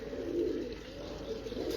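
Pigeons cooing steadily on a Lahore rooftop where breeder pigeons are kept, a low continuous coo close by with soft background noise and no speech.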